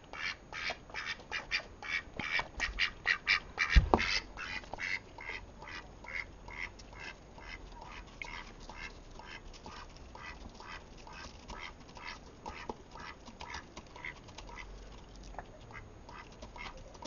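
A pet duck quacks and squawks in a rapid, loud run of calls, then keeps up a softer string of repeated quacks close by throughout.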